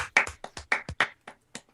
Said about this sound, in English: give a little applause